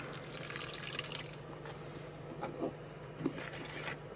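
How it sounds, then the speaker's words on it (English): Filtered water poured into a bowl of dry oatmeal in a home kitchen, a soft, close trickle and splash that swells and fades over a few seconds, with faint drips and no talking. "I'm going to pour my filtered water in there to look."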